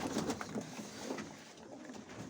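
Pigeons coo softly in a loft, a few low throaty calls up close with light background rustling.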